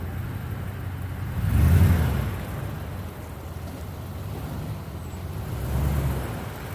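A lifted Toyota Tundra pickup with a 6-inch Fabtech lift drives nearby, its low engine rumble swelling twice, first strongly and then more softly, over a steady background hum.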